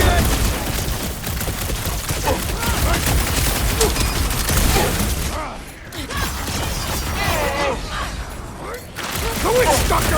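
Guardians of the Galaxy combat with bombs going off as heavy booms woven into constant gunfire and mechanical clatter, loud and close throughout, with characters talking over the battle.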